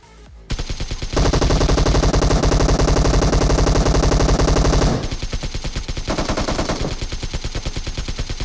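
Automatic gunfire in the mobile battle royale game BGMI, loud rapid bursts of shots with a long sustained stream, a brief pause, then another fast volley, close and dominant.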